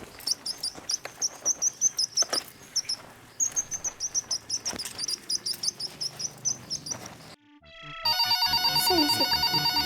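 A mobile phone ringtone bursts in loud and steady near the end, after a long run of repeated bird-like chirping tones.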